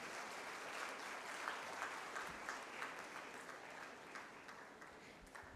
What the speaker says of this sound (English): A loud applause for them.